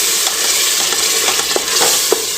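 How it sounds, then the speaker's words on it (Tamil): Ground raw onion and tomato paste sauté in hot oil, giving a steady close sizzle with occasional soft stirring scrapes and no talking. "அது வரை அந்த ஆயிலில் நல்லா வதக்கி கொடுத்துக்கலாம்"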